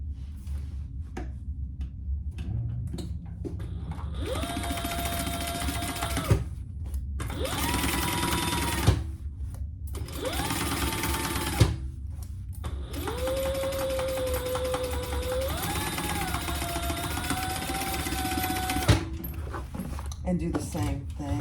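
A sewing machine stitches fabric pieces together in several separate runs, each a steady whirring hum with rising and falling motor pitch, separated by short pauses and small clicks, with talk between runs.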